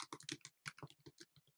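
A short, quiet run of computer keyboard keystrokes, about a dozen quick clicks in an uneven rhythm, heard close up with no voice.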